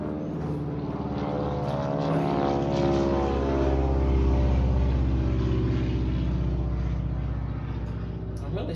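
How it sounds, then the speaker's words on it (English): Propeller airplanes pass overhead, heard through an open garage door in a home gym. A loud, steady engine drone swells gently and fades slightly across the whole stretch. "I'm really sorry about all the airplanes today"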